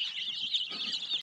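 Chickens cluck and chirp softly up close in a continuous busy chatter, with no talking.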